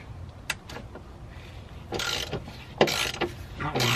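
A ratchet wrench clicks in short bursts while loosening 13mm bolts on the anti-roll bar bushes of a BMW E87, the rapid metallic ratcheting close and fairly quiet, with brief gaps between strokes.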